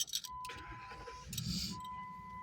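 A car engine is cranked and started, a brief key-jingle click followed by a low churning whir and an engine catching to a steady idle, with a faint tonal chime running underneath.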